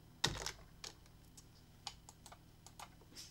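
Keystrokes on a Dell computer keyboard come as a sharp first press, then scattered single taps at irregular intervals, close and fairly quiet in an otherwise still room.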